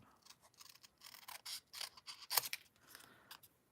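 Scissors cut out a stamped paper image in a series of close, crisp snips that speed up in the middle and taper off toward the end. The cutting is quiet and heard alone.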